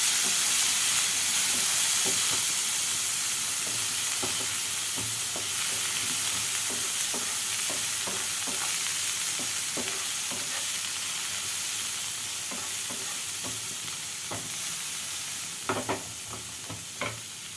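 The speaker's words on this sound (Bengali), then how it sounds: "আমি হালকা ফ্রাই করে নেব।" Ingredients for sweet corn soup lightly frying in a pan, a continuous hissing sizzle with intermittent spatula scrapes and taps, close and steady, no talking.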